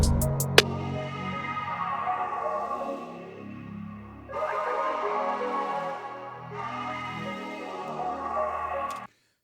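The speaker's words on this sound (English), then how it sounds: "I added a phaser to it, and I'm using the Native Instruments phaser." Looped music passage in a Studio One mix, run through a Native Instruments phaser, with sweeping filtered movement across repeating sections, a sharp click at the start and an abrupt stop at the end.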